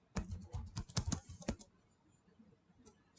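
Rapid computer keyboard typing, a dense burst of close, crisp key clicks for about a second and a half, then near silence with a couple of faint taps.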